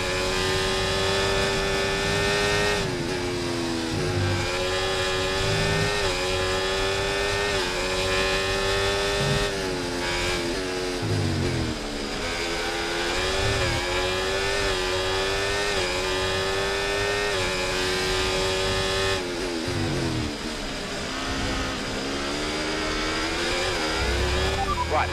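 Race car engines in a racing video game whine and rev continuously, loud and close, pitch sweeping up and down with gear shifts and throttle changes across the whole stretch.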